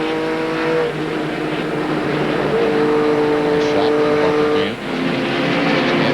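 Race cars from the 1998 NASCAR Goody's Dash Series race at Bristol Motor Speedway, their engines droning loud and steady, with a sustained high whine and some pitch shifts as they run laps. A commentator's voice can be heard faintly under the noise.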